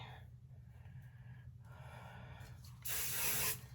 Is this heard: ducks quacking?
no